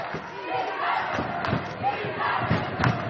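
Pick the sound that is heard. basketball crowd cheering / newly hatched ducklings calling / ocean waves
basketball crowd cheering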